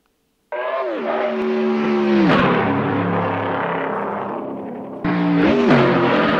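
A car engine with a new engine fitted starts abruptly and revs up loudly, settling into a throaty idle, then revs hard again twice in close, clear bursts.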